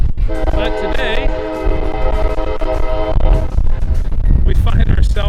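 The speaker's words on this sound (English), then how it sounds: "Got a little train noise." A train rumbles past nearby along the Cape Cod Canal, with a loud horn sounding for several seconds over the heavy rolling noise.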